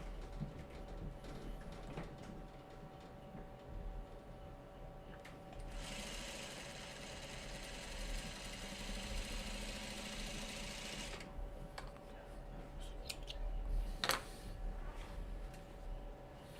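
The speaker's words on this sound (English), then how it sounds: "let me sew this one a little better" Sewing machine stitching a Farmer's Wife Jackknife quilt block, a steady close mechanical whir with rapid needle chatter lasting several seconds in the middle, quieter handling noise before and after.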